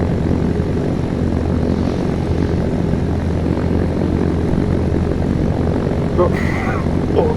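A Cessna propeller aircraft engine in the video game Arma III drones continuously and loudly, a dense steady rumble with a constant buzzing hum that fills the whole stretch, while people talk faintly underneath.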